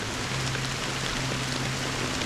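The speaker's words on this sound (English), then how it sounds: "How long has this rain been ongoing?" Steady rain falls in the video game Honkai: Star Rail, a dense, even hiss of drops that continues unbroken and alone at moderate volume.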